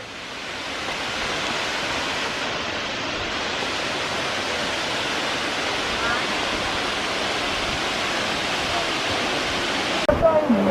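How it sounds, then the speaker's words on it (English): Abbi Falls waterfall in Coorg roars steadily with a broad, continuous rush of falling water, loud and unbroken from start to finish, with a brief faint knock near the end. "If you can hear the sound of falling water, You can see the falling water also."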